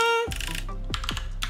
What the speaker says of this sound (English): This is gonna show you guys how, if I'm good at typing or not.